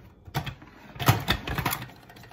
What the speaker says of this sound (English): You can throw the entire head into a salad spinner and give it a couple of spins